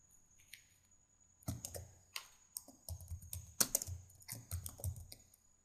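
Typing on a computer keyboard while writing a first document in Word 2010, heard as close, irregular bursts of quick clicky keystrokes with short pauses between runs, alone and without speech.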